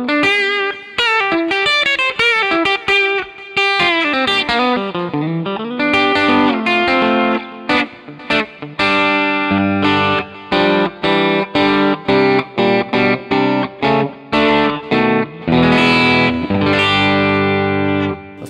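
Electric guitar, a Fender 70th Anniversary Broadcaster, plays a melodic run of picked notes and chords, washed with echoing delay and roomy reverb, loud and close throughout.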